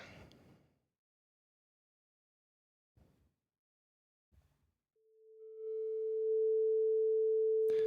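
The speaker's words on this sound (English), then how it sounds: "So you can hear that nice sine wave." A pure 440 Hz sine tone fades in after a few faint clicks and silence, then holds steady and clean for about three seconds before a brief noise at the very end.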